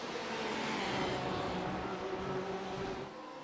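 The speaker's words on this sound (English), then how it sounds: "Porsche is a very, very nice looking GT3 car, and it sounds absolutely wonderful." Porsche GT3 race cars in iRacing sweep past at Brands Hatch during an endurance race, a steady loud engine drone with a broad wash of noise that holds for about three seconds and then eases slightly.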